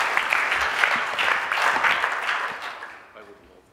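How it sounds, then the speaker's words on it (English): An audience at a storytelling and presentation skills workshop breaks into applause, a lively group clapping with some voices mixed in, then tapering off near the end. "Round of applause."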